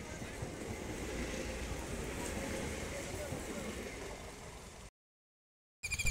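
A steady rumbling roar of a train departing Kalinagar station toward Nabadwip, with wind buffeting the microphone, continuous for several seconds before a brief cut to silence.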